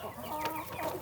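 Farm chicken clucking close by in short, busy bursts that run through the whole brief moment, with no voices over it.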